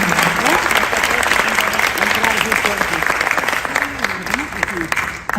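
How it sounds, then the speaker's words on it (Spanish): An audience at a book presentation claps steadily for several seconds, the dense applause mixed with voices and a few calls. "Le damos un aplauso, por favor."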